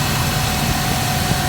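A 1987 Dodge Power Ram 50 4x4 engine runs steadily with its cooling fan, a loud, constant mechanical drone and whir close by with no break and no voices.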